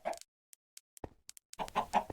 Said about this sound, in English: but I really want these chickens.